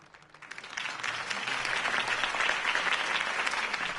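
Crowd applause in a video game breaks out, swelling quickly and continuing as dense, steady clapping.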